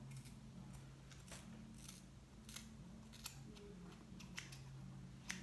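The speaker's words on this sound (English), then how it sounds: "take your shears, snip, snip, snip, snip," Hair-cutting shears snip through hair in a quick series of crisp, close cuts at an uneven rhythm over a steady low hum, with no talking.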